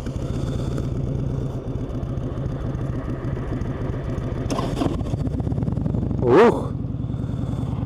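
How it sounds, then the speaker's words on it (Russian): A 1997 Harley-Davidson motorcycle engine idles close by with a steady low, lumpy throb at slightly raised idle speed, a brief exclamation from a man rising over it near the end. "Вот этот обороты холостые чуть побольше. Вот он, старый Харлей."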